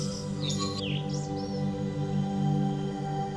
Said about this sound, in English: bird concert can be heard on the treetops for days on end